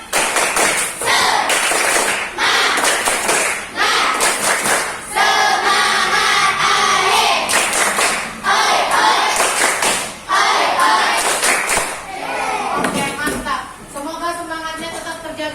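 A school class performs a rhythmic spirit clap, with bursts of sharp claps in a set pattern alternating with loud group chanting, close and energetic, ending with voices that trail off.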